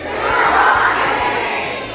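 Students in a school gathering shout out a guess together, a loud, sustained crowd yell that swells and fades over about two seconds with no single voice standing out.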